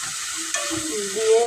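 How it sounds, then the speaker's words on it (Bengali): Potatoes dropped into hot oil, setting off a close, bright sizzle that swells and crackles steadily over a second and a half. "তেল ছেড়ে এসছে, আমি আলুগুলো দিয়ে দিচ্ছি।"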